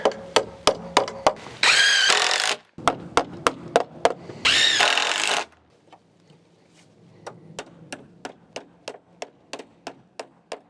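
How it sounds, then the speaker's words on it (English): A chop saw cuts wood pieces for a porch at a cabin: two loud, sustained whining cuts about a second each, surrounded by a steady run of sharp, evenly spaced clacks and knocks from handling the boards. "Loving the chop saw."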